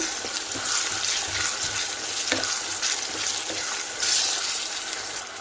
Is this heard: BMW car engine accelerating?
no